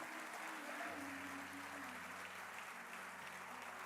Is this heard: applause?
yes